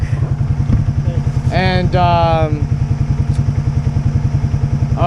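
A broken-down Yamaha Grizzly ATV engine runs close by with a steady, rhythmic thumping idle, while people talk over it.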